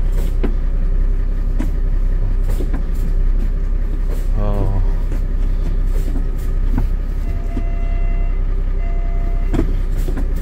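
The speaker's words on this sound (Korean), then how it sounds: "미션 테스트를 해봐야 되는데 어, 미션도 굉장히 부드럽게 잘 들어가고 있고" Hyundai Mega Truck with an 8 m wing body running during a transmission test, a steady loud engine drone throughout with brief harmonic tones, a faint beep and clunks, and someone talking briefly over it.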